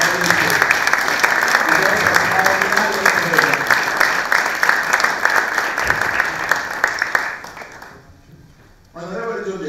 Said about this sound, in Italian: direi di iniziare con un applauso collettivo alla pallavolo italiana